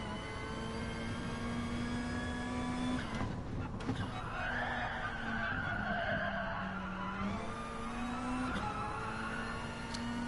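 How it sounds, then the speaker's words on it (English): Tires skidding and spinning on a car pulling away in Gran Turismo Sport, a steady engine drone with a rising squeal of wheel spin across the middle, loud and continuous. "Still a little bit of wheel spin, but it's not too bad."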